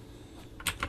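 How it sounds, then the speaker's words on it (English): Arrow keys on a computer keyboard are tapped while an image is adjusted in design software; a couple of quick, soft clicks come near the end over a quiet background hum. "I can use the up and down arrow key on my keyboard to actually adjust this"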